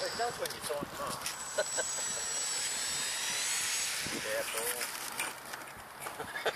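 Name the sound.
model Cessna airplane taxiing after landing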